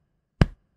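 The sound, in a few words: patting one's chest, body percussion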